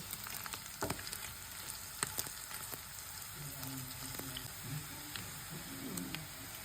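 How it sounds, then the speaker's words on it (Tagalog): Dried chili peppers toast and fry in hot oil in a pan for chicken pastil, giving a steady close sizzle with scattered pops and crackles throughout. "Atin pa itong papupulahin, tostahin hanggang maglangis lang."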